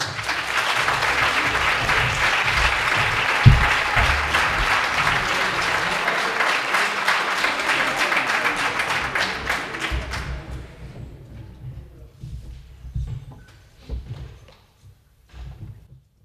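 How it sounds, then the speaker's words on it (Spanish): An audience at a student piano concert applauds loudly and steadily for about ten seconds, then the clapping thins to a few scattered claps and soft thumps before fading to near silence. "vamos a recibirlo con un fuerte aplauso"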